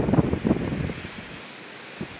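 Sea waves wash onto a beach after heavy rain. A couple of louder surges in the first second settle into a softer, wind-buffeted wash.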